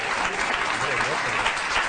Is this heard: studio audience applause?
yes